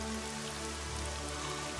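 Rain falls in a dense, steady hiss with a low rumble beneath, loud and unbroken throughout and without any voices.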